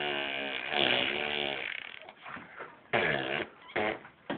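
Molly blows loud, buzzy raspberry bursts with her lips, a voice imitating flatulence: one long sputter followed by several shorter spurts close to the microphone.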